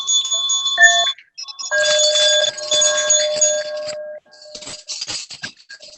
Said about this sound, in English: please unmute so we can make a really loud bell ringing